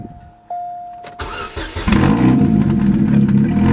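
A Chevrolet Cobalt SS with an old holed downpipe and an exhaust leak cranks briefly and catches, then settles into a loud, rough idle close by.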